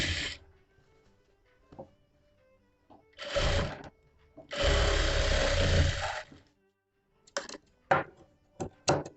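A sewing machine stitches a princess cut blouse in short bursts, one long run at the centre and quick brief spurts at the end, each separated by quiet pauses.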